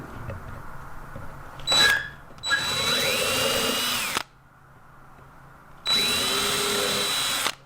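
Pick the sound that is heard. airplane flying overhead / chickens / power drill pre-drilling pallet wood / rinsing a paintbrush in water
power drill pre-drilling pallet wood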